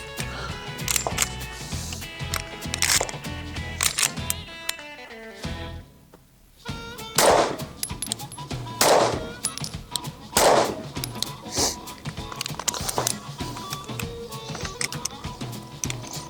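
Sig Sauer P211 GTO pistol fired at a target, with a series of sharp, loud reports spaced a second or two apart against a steady background hum.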